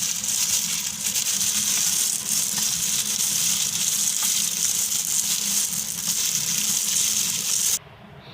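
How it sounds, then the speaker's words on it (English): Water pours steadily into a homemade soap mixture, a continuous close splashing hiss that runs for several seconds and then cuts off abruptly near the end. "you just add 1 spoon of water"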